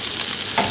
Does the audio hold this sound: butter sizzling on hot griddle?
yes